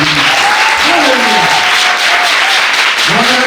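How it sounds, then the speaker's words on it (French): Loud, sustained applause from a church congregation at a ministers' retreat in the Sud-Comoé region, steady and dense throughout with voices calling out over the clapping. "On peut acclamer encore ici."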